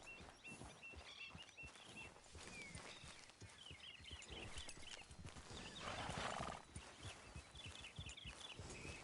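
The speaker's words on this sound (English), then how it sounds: "Grab your horse and let's go." A horse in Red Dead Redemption 2 trots along with steady clip-clop hooves, snorting and whinnying now and then, with faint birds in the background and no talk.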